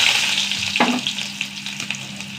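Small onions dropped into hot oil with popping mustard seeds, a steady bright sizzle with a brief louder burst as they hit the pan, continuing without voices.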